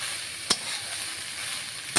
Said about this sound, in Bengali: ভাতটা দিয়ে একটু ভালো করে এই পেঁয়াজ লঙ্কা ডিমের সাথে মিশিয়ে নিলাম।